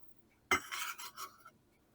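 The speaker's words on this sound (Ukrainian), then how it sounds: "І моркву перекладаю в мисочку" Shredded carrot drops into a bowl with a sudden clink, then a few brief scraping, rustling moves as it settles. The kitchen is otherwise quiet.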